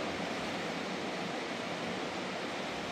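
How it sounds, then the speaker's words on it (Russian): A mountain river in Altai rushes in a steady, dense roar of water that fills the whole moment evenly, with no voices. "Речка шумит вообще."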